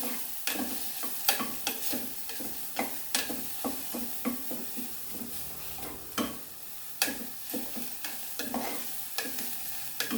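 Drumstick (moringa) pieces frying in a pan, giving a steady sizzle broken by repeated scraping stirs at an uneven rhythm, close and fairly quiet, with no voices.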